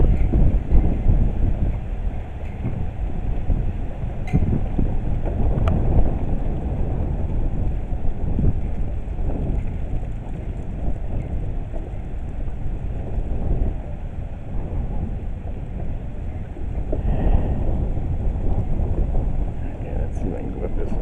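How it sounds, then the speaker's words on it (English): Strong gusty wind buffets the microphone outdoors beside a building, a steady, heavy low roar that swells and eases throughout without pause. "Man, it's windy today."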